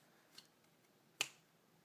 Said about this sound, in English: But if I snap my fingers,